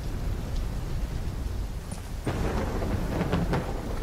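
A thunderstorm in the Call of Duty Black Ops 3 campaign: a low steady rumble with rain-like hiss, then a louder crack of thunder about halfway through that rolls on with brief flares.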